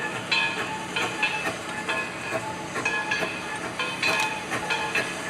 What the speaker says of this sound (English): After 163 pulled out, EBT 16 and the passenger train was ready to go around the Y.